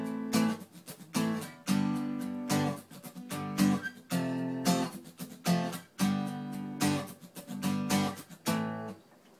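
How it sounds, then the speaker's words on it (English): Strummed acoustic guitar chords repeat in a steady rhythmic pattern, close and fairly quiet, with no voices. "We're going to use a simple acoustic guitar track"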